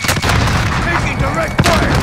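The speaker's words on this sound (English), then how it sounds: "Grenade out." A grenade explodes in a Call of Duty match, a loud booming blast amid gunfire and battle noise, with players talking over it.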